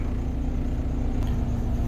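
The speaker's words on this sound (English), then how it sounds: "Allow the truck to roll forward to give the trailer a tug." Semi truck idling low and steady as it rolls forward in drive to tug against its trailer during an air brake test, a continuous mid rumble with a faint brief knock partway through.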